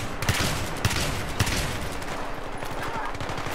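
Saiga 12K semi-automatic shotgun in Battlefield 3 firing frag rounds: three punchy blasts in quick succession followed by a noisy firefight, with someone talking underneath.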